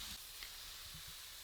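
Steak searing in a hot pan on medium heat, a quiet steady hiss of sizzling without pause.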